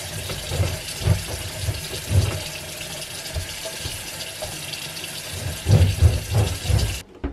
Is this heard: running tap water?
yes